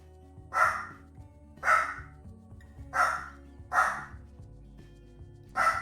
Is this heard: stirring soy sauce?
no